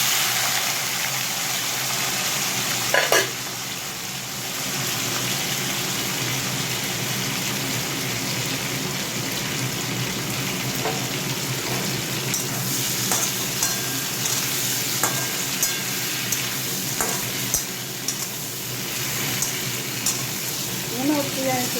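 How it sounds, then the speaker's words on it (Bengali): Potatoes and pointed gourd fry in oil in a kadai, a continuous close sizzle broken by occasional sharp scrapes and clicks of stirring over some twenty seconds. "আলু পটলটা একটু ভেজে নিই।"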